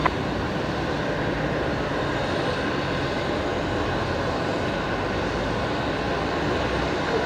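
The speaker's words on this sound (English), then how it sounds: "Runway 19 left, quick takeoff." Qantas 943 airliner taking off at night from Brisbane runway 19 left, a steady broad jet engine roar held at even loudness throughout, no voices.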